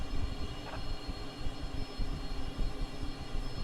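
Light aircraft taxiing toward general aviation parking in Microsoft Flight Simulator 2020: a steady, moderate engine drone with low rumble and a faint whine, continuous and unchanging, with no voices.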